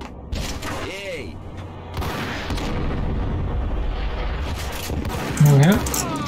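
Gunfire in the PC game Max Payne, Portuguese-dubbed version: a couple of sharp, booming shots ring out over a dense background of game ambience, with someone talking in Portuguese through the scene.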